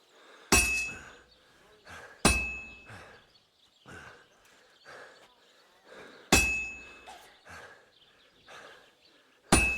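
A blacksmith's hammer rings against metal on an anvil in the video game Kingdom Come: Deliverance 2, several sharp metallic strikes spaced irregularly with lighter taps and soft scraping between them, close and clear.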